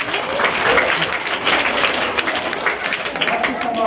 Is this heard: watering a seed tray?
no